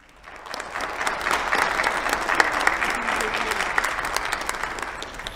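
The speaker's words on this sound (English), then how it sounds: "I would like you to applaud them at this time" An audience of parents and students at a high school graduation applauds the leadership team, a steady, dense wash of clapping that swells in after a quiet start and holds evenly throughout.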